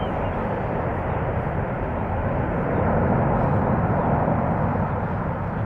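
Airbus A330-300 airliner at Amsterdam Schiphol, a loud continuous broadband jet engine roar, steady and close, with no talk over it.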